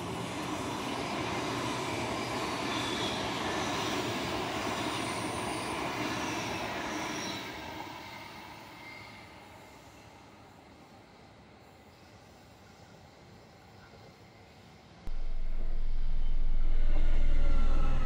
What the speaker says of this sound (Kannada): ರೈಲು ಈಗ ಶ್ರೀ ಬಾಲಗಂಗಾಧರನಾಥ ಸ್ವಾಮೀಜಿ ನಿಲ್ದಾಣ ಹೊಸಹಳ್ಳಿಗೆ ತಲುಪಲಿದೆ